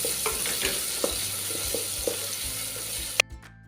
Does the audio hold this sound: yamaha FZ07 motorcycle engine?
no